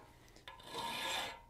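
A hand file rasps along the curved edges of a metal gothic door knocker, a short scrape that starts with a light stroke and swells into one longer, quiet grinding pass.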